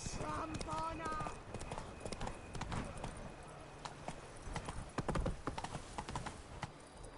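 Hooves of Geralt's horse Roach clip-clop in an irregular walking rhythm in the video game Witcher 3, fairly faint beneath game voices and ambient sound.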